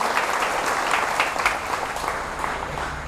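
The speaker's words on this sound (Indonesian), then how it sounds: "Sekali lagi tepuk tangan untuk Tuhan Yesus" Audience applause fills a church Easter sermon hall for students and lecturers, a dense steady clapping from many people that holds for the whole stretch with a faint murmur underneath.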